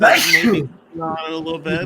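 A single sharp sneeze bursts out near the mic during a live sports talk stream, followed by a short pause and then casual speech.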